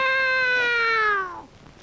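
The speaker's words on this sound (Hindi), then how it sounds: "ये कौन बोला? बिल्ली।" A cat meows once, a clear drawn-out call that slides slightly downward and stops abruptly, heard close and alone in a quiet classroom.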